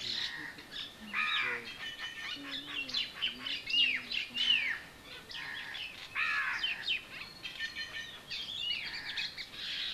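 Many birds chirp and call in the Bangladesh countryside near the Burma border, with overlapping tweets and a few lower hooting or cawing notes. The chorus is steady and moderately distant throughout.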